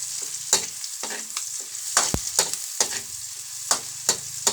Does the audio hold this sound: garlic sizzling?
yes